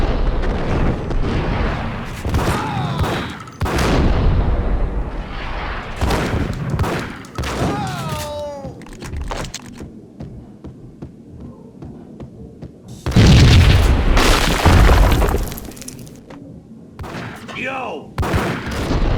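Gunfire from the video game Max Payne, heavy loud bursts and booming blasts coming in waves with brief lulls, mixed with in-game voices and music.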